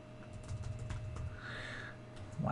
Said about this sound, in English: Apologize for my lousy typing tonight.